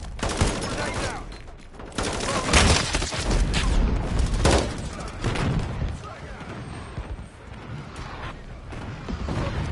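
Dense, continuous bursts of gunfire and heavy booms from a Call of Duty: Modern Warfare beta match, including an artillery strike, with a voice speaking over the noisy battle.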